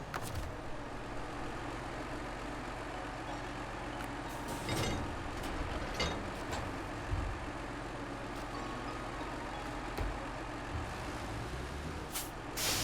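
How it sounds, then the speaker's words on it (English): A heavy truck sits stuck in the snowy Yukon terrain of SnowRunner, its engine droning steadily and loudly. Short air-brake hisses cut through now and then, with no speech. "I can't even get this truck unstuck now."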